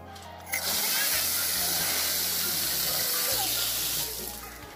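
A one-horsepower water pump drawing from a six-metre-deep pool in a garden sprays a steady stream of water upward, giving a loud, continuous rushing hiss close by that fades slightly at the end.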